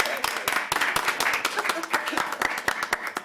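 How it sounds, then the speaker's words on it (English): Applause at a city council meeting, quick scattered claps from a room of attendees welcoming new planning commission members, steady and fairly close for a few seconds. "You can clap for that."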